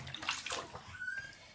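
Water sloshing and splashing in a baby's bath, soft close-up swishes and gentle splashes that come and go, with an adult voice faintly in the background.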